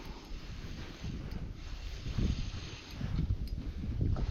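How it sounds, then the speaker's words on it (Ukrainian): Strong December wind buffets the microphone in a constant low rumble while perch fishing, with gusts swelling louder toward the end, over water. "Вітер помінявся в другу сторону, страшезно"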